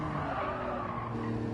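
Race car tires skidding and squealing in Gran Turismo 7, a steady loud screech over the engine drone, continuous and close.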